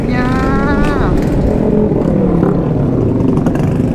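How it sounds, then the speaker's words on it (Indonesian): Honda Sonic motorcycles ride past on a village road, engines revving and whining loudly as they pass close by amid busy traffic noise, with a voice speaking over them. "Di mana-mana motor Sonic berkeliaran"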